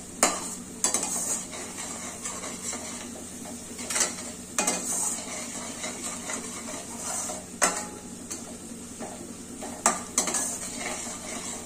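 Fenugreek leaves fry in oil with a steady sizzle while a utensil stirs and scrapes the pan, giving several sharp metallic clinks spread over the stretch, close by with no talking.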